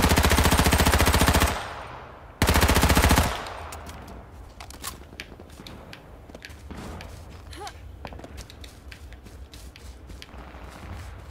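Loud automatic gunfire from the video game H1Z1, two dense sustained bursts close up, followed by quieter scattered shots and footsteps in the background.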